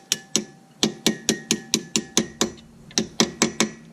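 A hammer striking a punch to drive the brake pad pin on a Maserati GranTurismo front brake: about fifteen sharp metallic taps in a steady, slightly uneven rhythm, close and loud.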